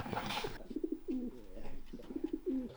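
Racing pigeons cooing close by in soft, repeated throaty phrases, several rolling coos in a steady rhythm with a faint breathy rustle at the start.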